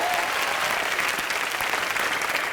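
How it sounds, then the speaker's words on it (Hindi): A studio audience at a comedy show applauds loudly and continuously, a thick wall of clapping that holds steady for the whole moment. "इनके लिए जोरदार तालियां"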